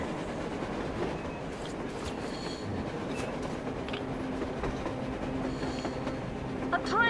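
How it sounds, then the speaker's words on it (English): In the video game Metro Exodus, a train runs on the surface with a continuous rumbling clatter of wheels on rails and brief metallic squeals, heard from a middle distance. "A damn train on the surface!"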